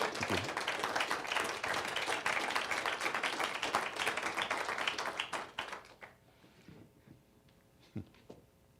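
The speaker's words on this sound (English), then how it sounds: "But let's give a wonderful round of applause for Rick Rossow." Audience applause at the close of a public talk on India and the Quad alliance, a dense wash of many hands clapping for about six seconds before thinning out to scattered claps and quiet room noise.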